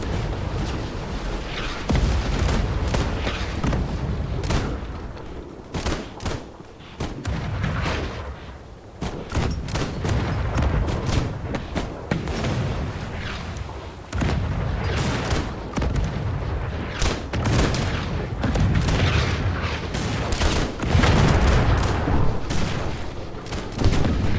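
Continuous barrage of explosions and gunfire during a bomb rush in the video game Pordier at War, loud and dense for the whole stretch with overlapping booms and blasts and no pause.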